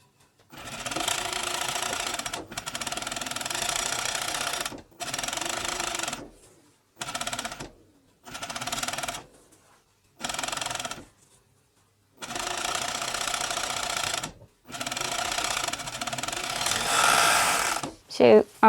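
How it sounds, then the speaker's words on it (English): An overlocker stitches a stretch knit waistband facing in a string of loud, fast, whirring runs that stop and start, with several silent pauses between bursts and the final run nearest and strongest. "I'm going to show you that you can do it on the overlocker"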